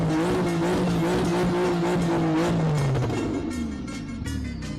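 A car engine with a turbo holds a loud, steady, close drone with a sustained whistling tone over it, then the pitch drops and the sound eases off toward the end.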